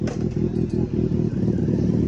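Motorcycle engine, a Kawasaki ZX10R or Z800, pulling off on a Sunday ride, a steady loud low rumble with slight surges as it revs, close by and continuous throughout.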